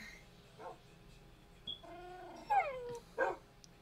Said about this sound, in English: His dog is crying.